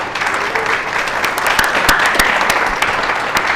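An audience at a Rust and WebAssembly conference talk applauds, a dense, loud burst of clapping with sharp individual claps standing out, sustained evenly throughout.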